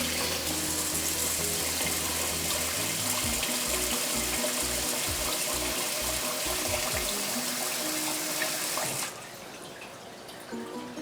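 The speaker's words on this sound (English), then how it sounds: "You fill up the water to the first line here." Tap water runs hard and steadily into a cooking pot of rice for sinigang, a loud rushing stream with some knocking of the pot underneath, then cuts off sharply near the end, leaving quieter room sound.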